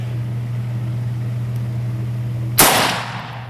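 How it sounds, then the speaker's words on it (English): A single loud 357 Magnum revolver shot, an LCR firing a Lehigh Defense 140 grain Xtreme Penetrator round in a ballistic test, cracks sharply near the end after a steady low hum, then decays briefly. "Third shot is going to be the Lehigh Defense 140 grain 357 Magnum Xtreme Penetrator bullet"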